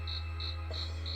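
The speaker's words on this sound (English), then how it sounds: "Crickets?" Crickets chirp in a Scooby Doo pyramid and sphinx mystery video game, about four evenly spaced bright trills over a steady low electronic hum, quiet and without speech.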